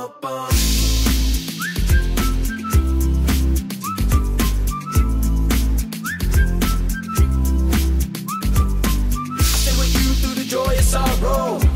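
Whistled melody over a thumping, bass-heavy track with steady beat, the whistle phrases recurring in short bursts throughout.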